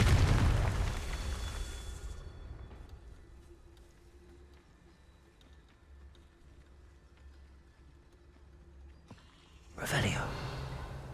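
A Confringo fire spell bursts in Hogwarts Legacy with a deep booming blast at the start, a quiet lull, then a second sharp explosion near the end, with a voice speaking briefly.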